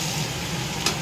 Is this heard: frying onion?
yes